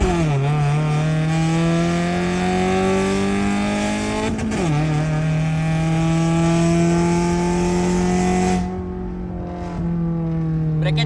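Tuned car revving up through the power band, a loud engine tone climbing steadily in pitch, dropping briefly with a gear change, then rising again before easing off near the end.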